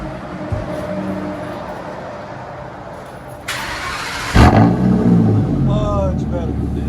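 A 2010 Ford F-250 with a 6.8L V10 and dual straight-pipe exhaust cranking and firing up into a loud, rumbling idle, close by, with people talking over the engine noise.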